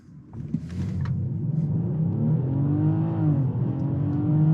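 A 2021 BMW X5 45e plug-in hybrid SUV accelerates hard, its engine note climbing steadily in pitch and loudness from inside the cabin, with no talking.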